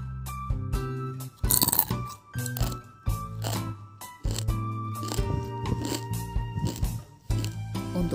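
Crispy fried wonton rolls being bitten and chewed up close, a series of sharp, loud crunches with short pauses between them and no talking.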